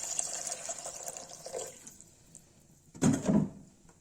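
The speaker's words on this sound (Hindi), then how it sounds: "वो पानी डालेंगे।" Water splashes into a cooking pot of green peas and mint soup over the stove, a short burst of pouring near the end after a stretch of quieter kitchen bubbling.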